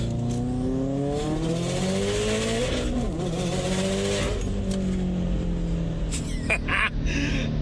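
Turbocharged car with a rotated turbo kit and engine mods, driven hard in Sport Sharp mode, engine revving and pulling loudly up and down through gears close and steady, with a brief tire chirp near the end.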